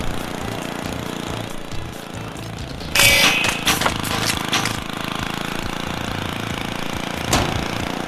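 A motorbike engine in the Happy Wheels video game buzzes steadily, broken by a sudden harsh burst midway and a brief flare near the end.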